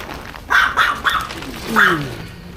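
A small puppy gives a few short, yappy barks and a whimper, close by, in an apartment in Angeles City during a move-out.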